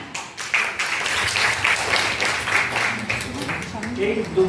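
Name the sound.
audience applause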